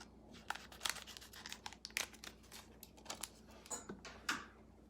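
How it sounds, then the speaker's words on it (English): Faint crinkling and snipping of a resealed nail set package being cut open, a string of small irregular crackles and tearing bursts close by. "I'm just gonna cut this open."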